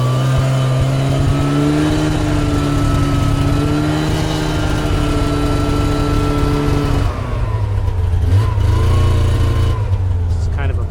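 A utility snowmobile engine drones steadily while breaking trail through snow, a loud close mid-pitched hum holding a constant note before dropping and shifting as the machine slows, with a voice faintly audible beneath it.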